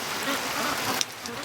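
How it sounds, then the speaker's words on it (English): Rain falls steadily outside an open garage door at a farmyard with ducks, geese and chickens, a soft even hiss with a faint tap near the end. "It's actually still raining"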